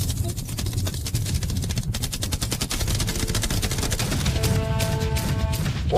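Machine guns firing in a yacht-defence challenge, a rapid continuous rattle of shots that carries on steadily with some heavier booms, with a tonal whine rising near the end, loud and close.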